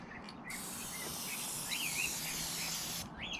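A quick shot of Elmer's multi-purpose spray adhesive gives a steady, loud aerosol hiss lasting about two and a half seconds, starting and stopping sharply, with faint bird calls in the background.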